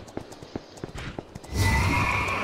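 In the online game Astellia, a mount's hooves clop in a quick irregular series of sharp taps, then a horse gives a loud, drawn-out neigh that fills the last second.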